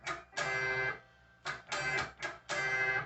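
Electric guitar lead fills, distorted notes played in short bursts with brief muted gaps between them, close and clear with no talking.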